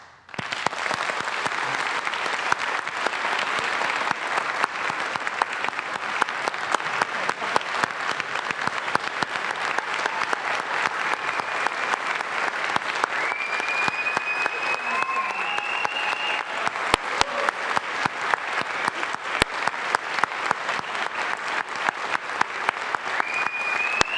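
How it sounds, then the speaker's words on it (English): An audience at a town meeting applauds in a long, steady round of clapping that holds evenly at a fairly distant level for over twenty seconds, with a few sharper claps standing out. "based on that applause"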